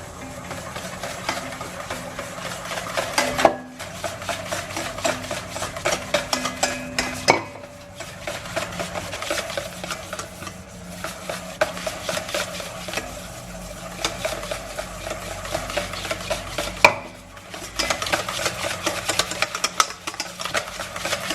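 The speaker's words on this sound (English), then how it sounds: "I'm going to whisk in very, very slowly my clarified butter." A whisk works clarified butter slowly into hollandaise sauce in a bowl set on a ring of towel, giving a steady, busy scraping and clinking that runs throughout over a low, constant background hum, with a few brief pauses.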